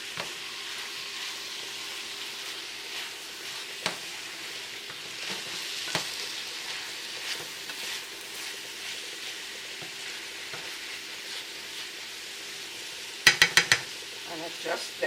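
Bacon, onion and tomato folded and stirred into callaloo frying in oil, a steady soft sizzle with scattered scrapes of the spoon and a brief burst of sharp clinks near the end.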